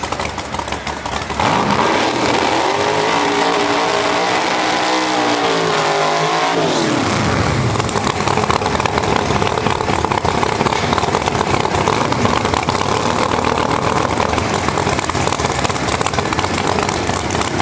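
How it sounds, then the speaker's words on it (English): A jet dragster pulls into the staging lanes at a drag racing strip, its turbine roaring loud and steady with a rising whine that swells into a harsh, broadband blast. "If we have our jet dragster pull up in the staging lanes, please."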